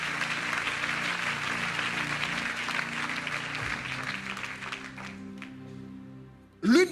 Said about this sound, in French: Alléluia, acclamons le Seigneur.